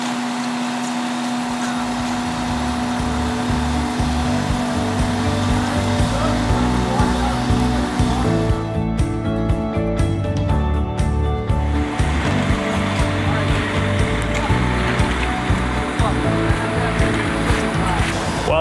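Water pours steadily onto an outdoor ice rink at a church, a loud continuous rushing wash that runs for the whole stretch with a brief shift in texture partway through, and a voice may be faintly present.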